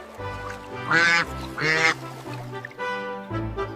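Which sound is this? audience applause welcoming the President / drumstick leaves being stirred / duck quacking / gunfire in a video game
duck quacking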